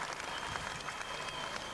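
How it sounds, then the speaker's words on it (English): A distant speedway crowd applauds a sprintcar crew at Borderline Speedway during the 1995 Australian Sprintcar Title night, a faint, steady wash of clapping throughout. "What about a great big round of applause for his crew here tonight?"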